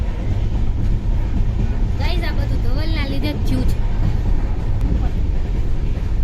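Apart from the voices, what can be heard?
inside a moving train, Gondal to Mumbai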